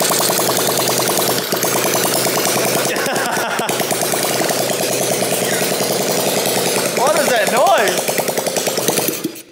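A 125cc four-stroke engine in a budget drift kart, push-button started, runs loud and close with a steady rough idle and a few sharp revving swells.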